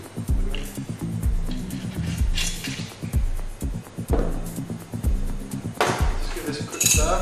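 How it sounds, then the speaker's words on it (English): A Negroni with gin is stirred in a glass, with repeated light clinks and chinks of a spoon against glass and ice in quick, uneven rhythm, close and clear under a speaking voice. "Just give this a quick stir."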